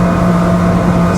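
An Axopar 28 custom fishing motorboat's engine runs at high revs near 40 knots of top speed, a loud, steady, close drone with constant hull and wind roar and no break.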